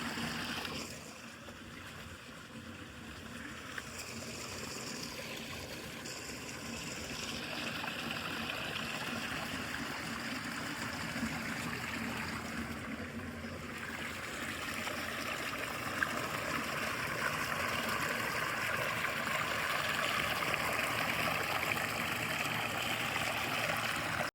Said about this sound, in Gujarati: પાણી ચાલુ છે.